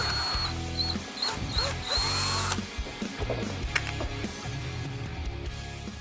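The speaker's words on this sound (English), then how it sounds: "And then what we could do, we'll go ahead and drill it." Power drill boring into a 3D carbon body kit bumper on a 2005-2009 Mustang, loud whirring bursts that start, stop and change pitch, with workshop noise around.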